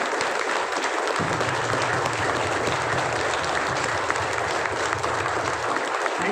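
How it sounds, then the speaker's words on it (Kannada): A seated audience at a network-marketing talk applauds steadily and loudly, a dense even clatter of many hands lasting several seconds with no speech over it. "ನಿಮಗೆ ನೀವೇ ಚಪ್ಪಾಳೆ ಕೊಟ್ಕೊಂಡ್ರೆ ಹೇಗೆ ಕೊಟ್ಕೊಳ್ತೀವಿ?"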